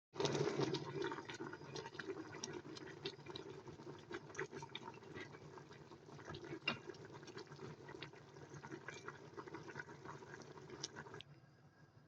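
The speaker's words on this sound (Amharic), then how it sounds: "እንደዚህ ስጋውን እስከሚሸፍን ድረስ ውሃ አርጌበታለሁ" Water poured into a cooking pot over meat being cooked with spices for a green beans, meat and rice dish, a steady rushing, splashing pour lasting nearly the whole stretch and then abruptly cut off.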